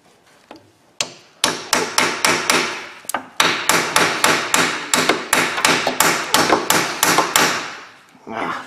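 Loud, sharp metal hammer blows strike rusty Ford Ranger brake parts during a brake job with rear drum brakes, about twenty evenly spaced, ringing hits in a steady rhythm, close up.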